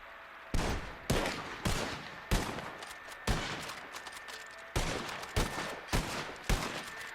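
Muskets fire by file during a reenactment drill, giving about a dozen sharp, loud reports spaced unevenly half a second to a second apart, each with a short echoing tail over a low background hiss.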